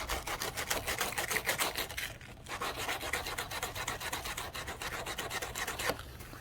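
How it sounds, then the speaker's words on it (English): Sandpaper or a file rubbing rough cut edges of a plastic fender liner on a Jeep Gladiator rear fender, a steady close scratchy rasp in quick repeated strokes with a brief pause midway, no talking. "you're just gonna hit it with just a little bit of sandpaper or a file, just to clean up the rough edges here"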